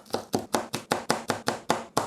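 A sad-looking spring onion is chopped on a board with a knife, ten crisp, evenly spaced knocks at a quick, steady pace, close and clear with no voices.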